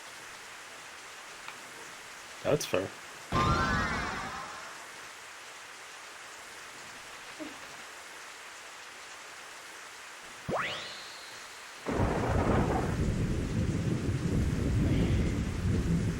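Rain and thunderstorm in an online game: steady rain hiss with sharp thunder cracks, a rising rumble, then heavier rain surging in; a voice speaks briefly.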